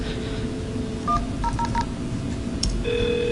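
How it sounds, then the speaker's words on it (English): A quick sequence of touch-tone dialing beeps into an Asterisk server, a few short tones in a row, followed by a steady ringback tone over low background hiss. "I'm just going to dial into the Asterisk server"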